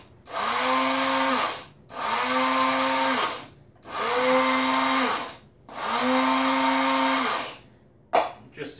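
A capped container of spice mix with smoked paprika is whirred by an electric appliance in four loud, steady bursts of about a second and a half each, separated by short pauses, with a clatter at the end.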